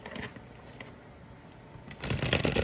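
A Love Oracle deck of cards is shuffled close by in short riffling bursts, the loudest burst near the end.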